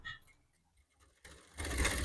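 A sewing machine runs a diagonal seam corner to corner across fabric in matching thread. Soft clicks give way to a short burst of stitching, and then the motor whirs up loudly and steadily at the end.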